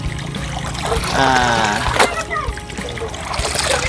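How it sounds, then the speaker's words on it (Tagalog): Running stream water splashes and trickles steadily, close by, with a voice and other voices faintly mixed in at times. "maagos naman yung tubig"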